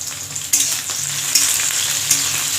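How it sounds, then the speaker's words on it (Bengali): Okra frying in a pan with green chilli and panch phoron, giving a steady loud sizzle with three sharp bursts as it is stirred. "প্রথমে এই ঢ্যাঁড়সগুলোকে ভাজতে দিয়ে দিয়েছি কাঁচা লঙ্কা দিয়ে"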